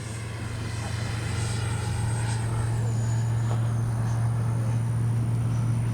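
An RC L-39 model jet flies past, producing a steady, loud turbine-like roar with a strong low hum and a faint shift in pitch as it passes.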